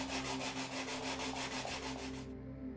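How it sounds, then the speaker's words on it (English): Sanding a 3D-printed light box, a steady, even rubbing rasp repeated in quick back-and-forth strokes, close and continuous, ending abruptly. "so I sanded it down a bit until it had a perfect fit."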